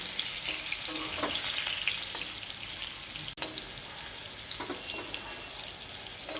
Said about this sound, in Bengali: হয়ে গেছে পটল ভাজা, পুরো লাল লাল করে দিচ্ছি।